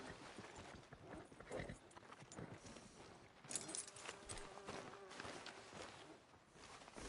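Horse hooves clip-clop at a walking pace in the Red Dead Redemption 2 video game, a steady moderate rhythm mixed with ambient game sounds and brief muffled voices.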